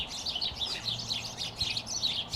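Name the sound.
birds fighting in a bird cage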